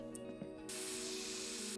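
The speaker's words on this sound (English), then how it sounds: "Apparently you can customize the helmet with spray paint." A spray can hisses steadily onto a helmet in My Summer Car, a broadband rush that starts abruptly after a few faint clicks and continues for over a second beneath low engine hum.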